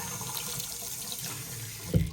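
Water runs steadily from a bathroom sink faucet in a hotel room at The Rockwell Inn in Jackson, Wyoming, a continuous close hiss with a brief louder splash near the end.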